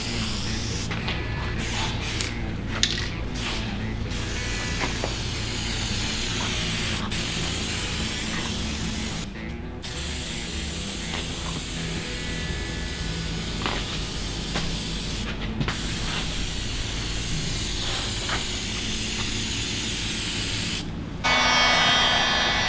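A spray gun lays a thin tack coat of paint onto BMW E34 car parts, giving a close, continuous hiss with a few brief pauses between passes, and a stronger burst near the end.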